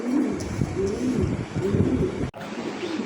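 Pigeons cooing steadily at a pigeon farm, a continuous low warbling chorus from several birds close by, with no talking.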